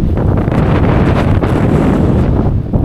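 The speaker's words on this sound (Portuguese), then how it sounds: "pegamos uma tempestade aqui de vento, não estava na previsão" Strong storm wind roars steadily on a riverbank beside a reservoir, buffeting the microphone with loud, continuous gusts and a low rumble, with no voices over it.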